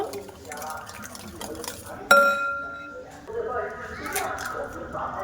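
Two eggs go into orange cake batter in a bowl, with one sharp glassy clink and then wet mixing and squishing, while a voice talks over it.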